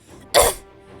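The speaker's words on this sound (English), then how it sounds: "That was a cough, I swear to God." A single sharp cough, close and fairly loud, a short burst with no talking around it.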